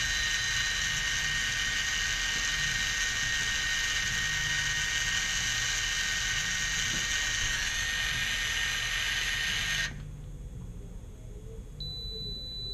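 A motorized control valve on a water treatment system cycles without position feedback, giving a steady high mechanical whine with a low motor hum that cuts off abruptly near the end, followed by a faint beep.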